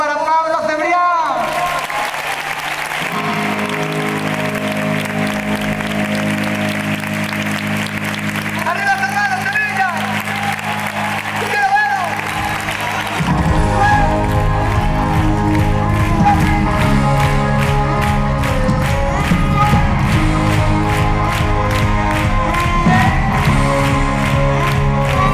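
A concert crowd at a show in Seville applauds and cheers for a musician. The sustained clapping and shouts mix with live music and an amplified voice, growing fuller in the second half.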